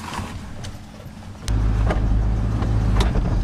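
A flood-damaged Ford F-150 pickup revs up as it pulls away, a steady loud low engine drone rising abruptly midway and holding close, with faint clicks over the top.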